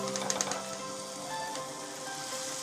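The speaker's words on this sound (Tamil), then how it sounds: "இதை வந்து நல்லா ஃப்ரை பண்ணிக்கோங்க." Pasta and vegetables sizzle in a frying pan for a spicy kids' pasta dish, giving a steady, soft crackle with a few sharper pops at the start.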